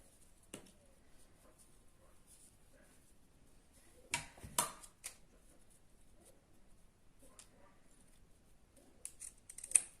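Scissors cut fabric for homemade hair ties in a quiet room, giving a few faint, sparse snips and a short cluster of crisper cuts near the middle and the end.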